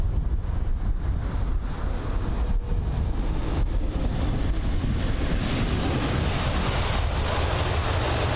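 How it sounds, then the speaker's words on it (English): Boeing 777-200 airliner landing at London Heathrow, heard as a steady, broad engine roar mixed with wind rumble, continuous and fairly loud with no talking. "So this is a Boeing aircraft with an Airbus aircraft right behind."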